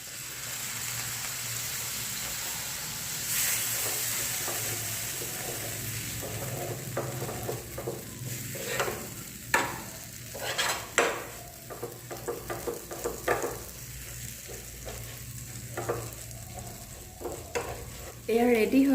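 A spoon stirs sesame and tomato chutney in a hot pan, scraping and sizzling in irregular bursts, busier in the middle stretch, against a soft frying hiss, close and moderately quiet.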